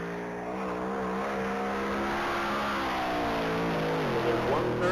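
A GTO race car accelerates hard during a top-speed mile run at the Texas Mile, its engine note rising steadily and loud, with a pitch drop near the end, under ongoing commentary.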